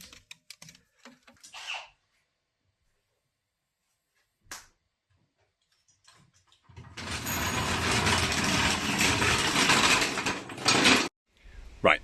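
Bolts being tightened on a car's rear suspension beam, a dense mechanical ratcheting and clattering burst lasting about four seconds after a few faint knocks, close by and with no talk.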